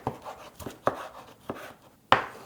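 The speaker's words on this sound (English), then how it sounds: "let's cut our tomato" Knife slicing through a very juicy tomato in a kitchen, a few sharp cuts spaced out over a couple of seconds, close and fairly quiet, with the last stroke the loudest.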